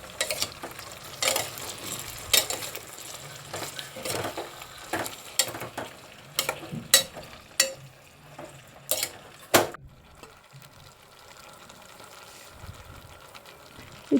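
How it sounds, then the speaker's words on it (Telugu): Broad beans and tomatoes being stirred in a steel pan, with a spoon scraping and clattering against the metal in irregular bursts over a soft sizzle, loud and close, then a quieter stretch near the end. "ఒకసారి కలుపుకుంటున్నాను."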